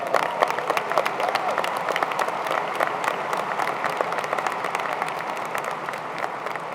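A large crowd applauds at a university valediction ceremony for graduating students, the clapping dense, even and sustained from start to finish with no speech over it.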